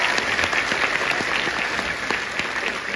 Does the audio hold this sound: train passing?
no